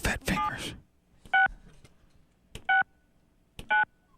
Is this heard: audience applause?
no